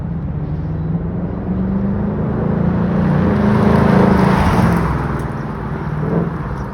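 Loud, deep V8 rumble from a 2021 Mustang GT with a Flowmaster axle-back exhaust builds as the car approaches, peaks while passing close by, then fades slightly, heard with no talking.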